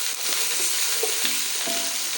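Sliced onions frying in hot cooking oil for a bhindi and potato curry, giving a steady, close, continuous sizzle and crackle with occasional soft stirring scrapes and no talking.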